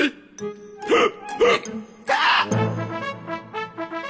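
Cartoon characters in a French animated children's series hiccup repeatedly, loud and close, with sharp squeaky bursts at uneven intervals and no talking between them.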